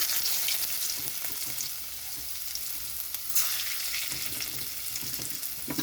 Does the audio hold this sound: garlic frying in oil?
yes